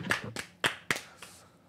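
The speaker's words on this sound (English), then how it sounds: "That actually worked well, the clapping." Hand clapping: a handful of sharp, close claps in an irregular rhythm, loud at first and trailing off softer, with no talk.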